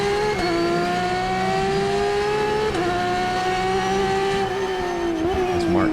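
Race cars at Daytona charge into NASCAR turn 1 during an IGT race, one making an easy pass; a loud, steady engine drone holds close throughout, with brief pitch dips as drivers shift or lift.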